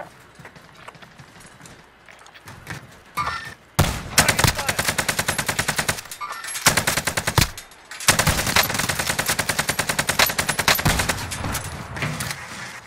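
Rapid automatic gunfire crackles in Call of Duty: Warzone, with long sustained bursts broken by short pauses, loud and close, over faint background game noise.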